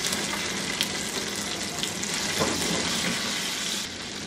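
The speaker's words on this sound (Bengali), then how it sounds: "2 টেবিল চামচ আদা রসুন বাটা, দিয়ে হালকা একটু নাড়ানাড়ি করে নিব" Ginger garlic paste fries in hot oil for a chicken bhuna, a steady bright sizzle running throughout with a faint scrape or two as it is lightly stirred, close and fairly loud with no talking.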